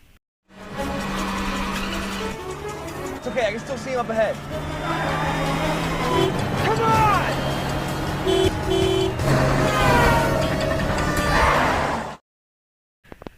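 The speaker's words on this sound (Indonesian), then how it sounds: "mengejar para penjahat menggunakan mobil penjaga sekolah" In a film car chase, a school guard's car speeds after kidnappers with tires skidding and squealing and the engine roaring, all under urgent shouted dialogue and a tooting horn.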